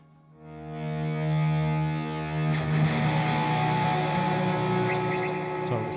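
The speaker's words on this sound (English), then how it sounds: "Ambiance. That'd be nice for some swells. Try that on the distortion channel." Electric guitar played through a Line 6 HX ambience preset on the distortion channel swells in after a moment, a sustained distorted chord washing into lush, echoing reverb with a few picked notes on top.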